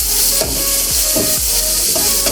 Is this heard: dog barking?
no